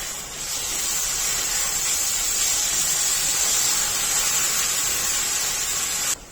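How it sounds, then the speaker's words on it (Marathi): A steady, loud hiss of onion and tomato sautéing in ghee, continuous for several seconds before cutting off abruptly. "कांदा टॅमॅटो अजून पाच मिनिटं परतून घ्यायचे"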